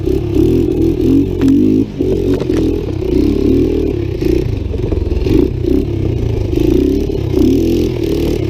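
Yamaha 200 Tri-Moto race trike on treadless tires, drifting: a loud, close engine revs in rising and falling surges, with scraping and clattering throughout and no voices.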